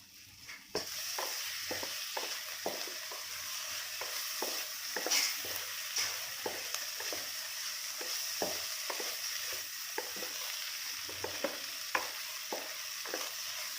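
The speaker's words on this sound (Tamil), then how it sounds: "நல்லா வேகட்டும் முட்டை." Egg frying in a pan for roti john, with chicken already cooked: a steady, close sizzle runs throughout, punctuated by regular light scraping and tapping clicks from a spatula stirring the pan.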